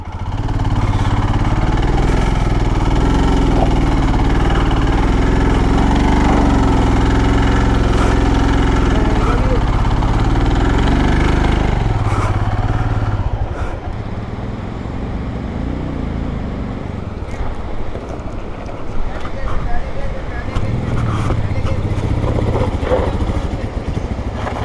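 A vehicle engine accelerating in first gear on a Spiti mountain road, a loud sustained drone for about twelve seconds, then dropping to a lower, rougher running sound with people talking over it.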